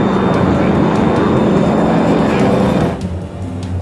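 Loud, constant roar of a Loganair airliner in flight over the North Sea, a dense engine drone that drops slightly in level near the end, with faint background voices.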